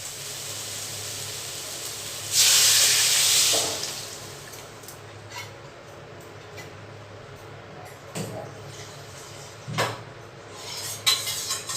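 Water poured onto vegetables cooking in mustard paste, a loud bright splashing gush lasting about a second and a half, followed by faint simmering and occasional clinks of a utensil against the pot.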